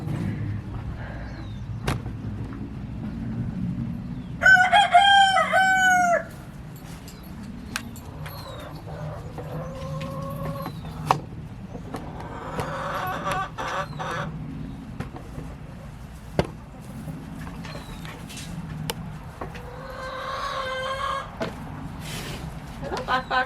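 Chickens in a garden coop give honking squawks and clucks at close range, with keys jangling and a person speaking around them.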